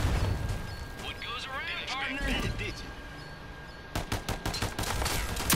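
Rapid gunfire from the Rogue Company video game, bursts of shots crackling under game noise and voices early on, then sharper, louder volleys of automatic fire near the end.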